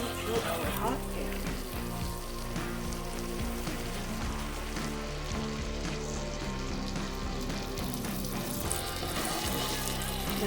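Sausage meat with no casing frying in a hot pan on a big burner, giving a loud, steady, dense sizzle like rain on a surface that runs unbroken throughout, with quiet talk underneath.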